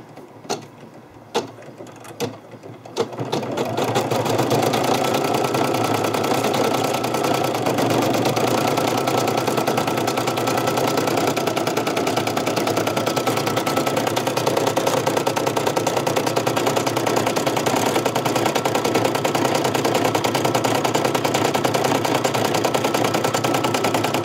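An embroidery machine stitches a butterfly design in red thread, starting with a few clicks before settling into a loud, fast, steady mechanical rattle that runs continuously and close by.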